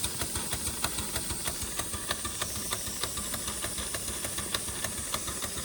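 A large authentic mill steam engine named Tina runs on steam from a boiler with rubber hoses fitted, giving a steady hiss under a quick, regular chuffing and knocking beat, close and loud.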